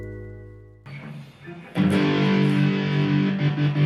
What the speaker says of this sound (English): It is basically a switch that can turn on and off your electric guitar that creates kind of a stuttering effect